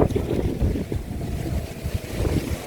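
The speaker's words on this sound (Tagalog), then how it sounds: "And it's very windy tonight." Strong wind gusting by a hotel pool area at night, a loud steady roar buffeting the microphone, with no voices.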